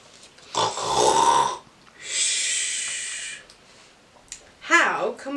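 A person reading a children's story aloud mimics a dog's loud snoring with drawn-out breathy snorts and wheezes in slow repeated bursts, up close and alone.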